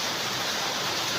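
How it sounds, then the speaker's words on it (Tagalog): Heavy rain pours down in a dense, steady broadband hiss outdoors under dark clouds as a storm builds, loud and unbroken with no voices. "Ito na, lakas na ng ulan."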